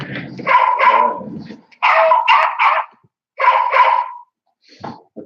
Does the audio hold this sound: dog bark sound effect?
yes